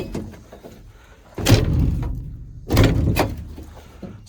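An old Ford F100 pickup truck door slams shut with a solid, close-up thud, then a second heavy closing thunk follows about a second later, each ringing out briefly over quiet surroundings.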